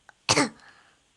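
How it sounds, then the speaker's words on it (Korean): One short, close cough or throat-clearing bursts out after a tiny click and trails off quickly, alone without talk. "기침하는 거보시면 알겠나요?"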